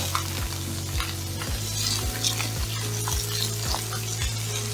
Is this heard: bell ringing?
no